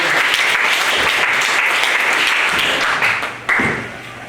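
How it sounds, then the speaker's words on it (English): Loud, sustained applause from the crowd at an after-prom hypnotist show, a thick roar of clapping that holds steady and then tapers off near the end. "kind of a round of applause for the parents and the teachers and the staff here who worked very hard to put this party on"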